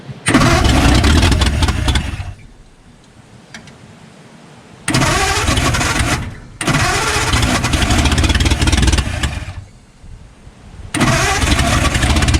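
The flathead engine of a 1952 Ford F1 pickup cranks loudly in repeated bursts, with quiet gaps between attempts, catching and running roughly in between, close up and without voices.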